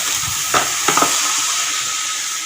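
Water poured into a hot frying pan of okra gives a steady loud sizzle and hiss, with a few brief scraping stirs early on and no talking.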